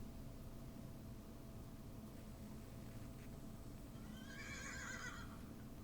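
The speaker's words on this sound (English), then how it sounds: "The horse is going to step on you." A horse inside a kitchen during a Halloween radio comedy show gives a whinnying neigh late on, over a constant hiss of old broadcast noise with faint clopping earlier.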